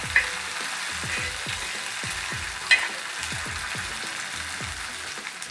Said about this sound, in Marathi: आता यामध्ये मी आलं लसूण मिरची पेस्ट घालत आहे। तो पण व्यवस्थित परतवून घेते।